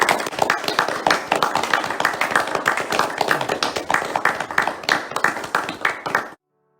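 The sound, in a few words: round of applause in a village hall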